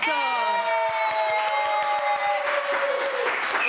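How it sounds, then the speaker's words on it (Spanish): Studio audience applause on a talk show set, dense clapping with scattered cheers under sustained tonal music, steady and fairly loud throughout. "¡Un aplauso!"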